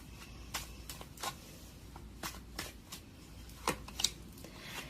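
Tarot cards being shuffled and drawn, soft papery riffles and flicks in a scattered, irregular rhythm, close but faint in a quiet room.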